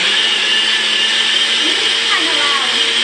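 A kitchen blender purees a sweet and sour sauce base, a loud, steady, close motor whine with constant churning that runs unbroken for the full stretch, with no pauses or changes in speed.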